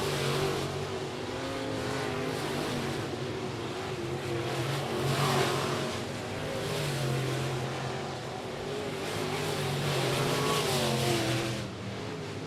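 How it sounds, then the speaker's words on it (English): Race cars at I-37 Speedway roar down the back straightaway, a continuous loud engine drone rising and falling as the pack passes, with no clear voices. "Down the back straightaway they go with Rick Green."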